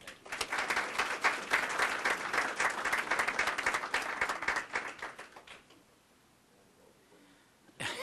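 Applause at a swearing-in ceremony, a moderately distant round of clapping from a room of people that fades out over a few seconds into quiet room tone.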